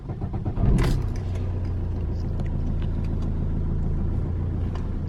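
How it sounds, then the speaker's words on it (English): A Vauxhall Corsa engine cranks briefly, catches with a loud burst, then settles into a steady, low idle rumble that continues evenly, close by, with no talking. "We'll go ahead and start up the engine."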